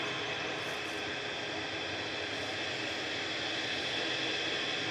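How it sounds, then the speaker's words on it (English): A TUI Boeing 787-8 Dreamliner departs Manchester Airport for Alicante, its engines a steady, fairly faint broadband roar held evenly for a few seconds with no voices. "Tui C heading off to Alicante now, 787-8 Dreamliner with flight 2620."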